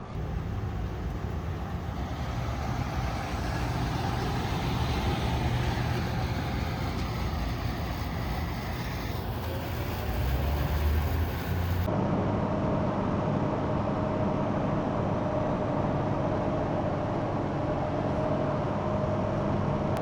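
A Toyota Tundra pickup towing a 36-year-old camper cruises along the road, giving a steady low engine and road rumble with broadband tyre noise that shifts partway through.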